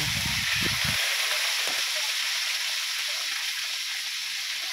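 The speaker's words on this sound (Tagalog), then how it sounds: "Isusunod ko naman dito iprito ito naman yung ating tilapia" Tilapia sizzling in hot oil in a new wok, a steady loud hiss and crackle throughout, with a brief low thump near the start and no talk over it.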